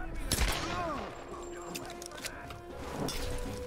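Gunshots from a firearm in Tomb Raider (2013), a sharp loud burst near the start followed by scattered lighter hits under a steady game soundscape, with voices and tonal game sounds mixed in.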